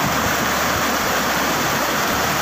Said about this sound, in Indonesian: sungai ini dinamakan Sungai Cikuluwung.